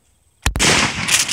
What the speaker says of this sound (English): So we're gonna lay off some shots and see how the gun goes.